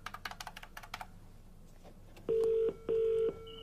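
A telephone number is dialed with a quick run of short keypad beeps, followed after a pause by two long ringing tones on the line, clear and with no talking.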